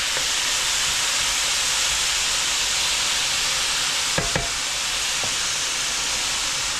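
Vegetables sizzling in a pan, a loud, steady frying hiss that runs throughout, with a couple of brief sharp clicks near the end.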